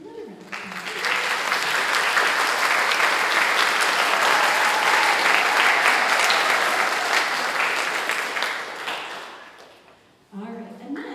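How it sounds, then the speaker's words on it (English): A sustained round of applause from a middle school spring concert audience fills the room for several seconds, then fades as a voice begins speaking. "So it's another round of applause"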